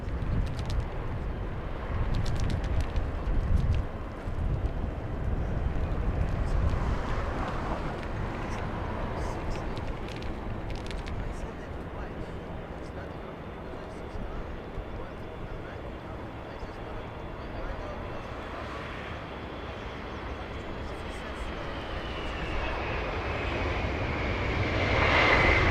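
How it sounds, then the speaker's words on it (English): A Delta Airlines Boeing 767 at LAX rumbles with a long, steady jet-engine roar from the near distance, swelling slightly toward the end, while a voice talks over it. "It's a 767 Delta Airlines."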